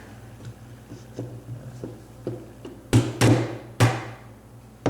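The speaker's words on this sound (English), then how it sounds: "I'm just going to give this a light tap with a hammer." Light hammer taps on a metal clamp of a low-cost geocaching container, a handful of sharp close knocks spaced irregularly, with several louder, ringing strikes near the end.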